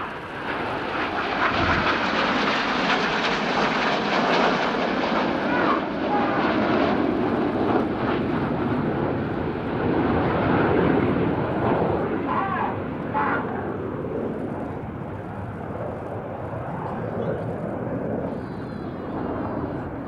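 Red Arrows RAF aerobatic jets fly a formation display at an air show, with pairs rolling inverted in tight formation, a loud, sustained, roaring engine rush that swells and slowly fades as the aircraft pass.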